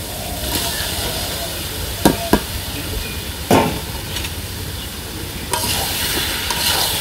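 Boiled young jackfruit is stirred and fried with spices and potato in a village-style pan, giving a constant hissing sizzle broken by a few sharp spatula scrapes and knocks.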